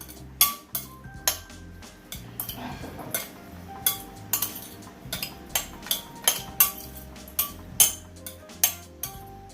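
Raw shrimp seasoned with salt and black pepper are tossed in a bowl, giving a string of sharp, close clinks and taps of utensil against the bowl in an irregular rhythm, with no talk.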